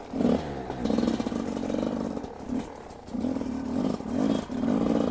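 A motorcycle engine with a suspected piston or ring fault revs repeatedly in short, rough bursts with brief dips between, close and loud, with no talking.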